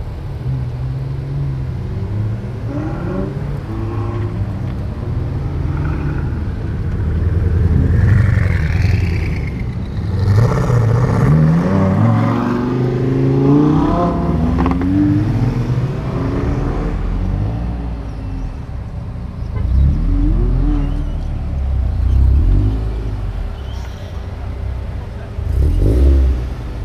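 Cars revving and pulling away at a pre-rally launch gathering on July 4th in Brampton, engines rising and rumbling in waves over a steady background, with people talking throughout.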